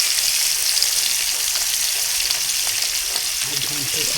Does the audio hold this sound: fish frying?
yes